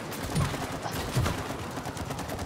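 Rapid bursts of gunfire from shooting in the co-op video game It Takes Two, a dense rattling fusillade with a couple of heavier thumps, steady and moderately loud without voices.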